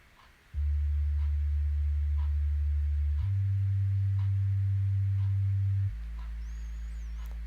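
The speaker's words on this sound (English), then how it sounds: "using a sine wave is its lack of harmonics" Synthesized sine wave tones in Ableton Live, pure low notes held for a few seconds each and stepping through three pitches, clean and loud, with faint ticking underneath.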